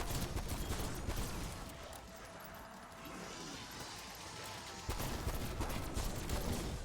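Six-shooter revolver fire in the Cold War Zombies video game, a dense, loud barrage of blasts that continues almost unbroken and swells again near the end, with no voices.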